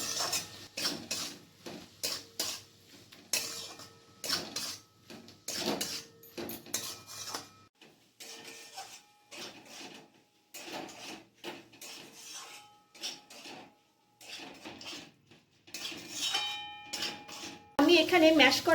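Chicken pieces being mixed with ground cumin and black pepper in a bowl for chicken chop, with repeated scraping, rubbing and light clinks against the bowl running through, moderately close.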